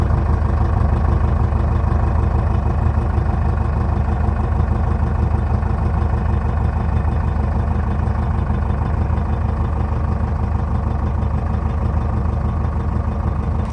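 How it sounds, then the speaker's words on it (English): A stock 2006 Jeep Liberty with the 2.8 CRD diesel, catalytic converter and muffler idling, heard from the exhaust at the rear as a steady, even low rumble with fine rapid pulsing, close and continuous. "Go around back here and let you hear the exhaust."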